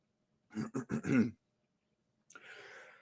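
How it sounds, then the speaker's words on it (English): A rough throat clearing comes in several quick guttural bursts, followed after a pause by a softer breathy exhale or hiss, close and alone. "Let me clear my throat."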